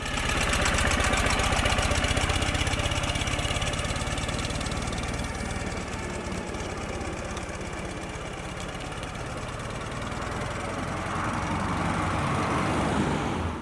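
A Ural motorcycle engine with a newly fitted clutch runs steadily on a test drive, a loud continuous mechanical rumble and drone that swells and eases slightly throughout.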